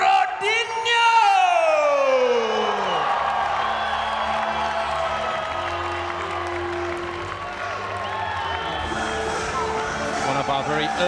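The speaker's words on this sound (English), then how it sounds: "get out of your seats and cheer for Leandro, Issa, Brodinho!" A fight-night arena crowd cheers and whoops loudly for Brazilian martial arts fighter Leandro Issa, a swelling roar of yells and applause that begins with a rising bellowed cheer and stays dense and close throughout.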